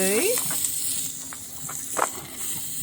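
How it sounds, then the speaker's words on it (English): Tomahawk steak and beef cubes searing on a very hot pan at a lakeside campsite, a steady close sizzle with a few brief spits and pops, and a voice heard early on. "I'm going to sear the edges."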